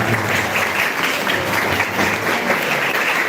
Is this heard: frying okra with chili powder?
no